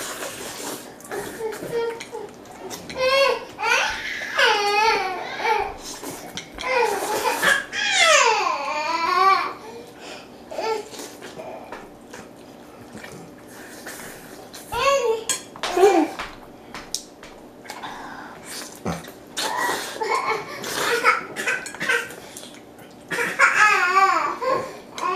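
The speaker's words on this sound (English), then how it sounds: "If you guys can hear a baby, that's my baby." A baby babbles and makes small sounds in the background during a spicy ramen eating challenge, while people talk and laugh nearby and dishes and cutlery clink now and then.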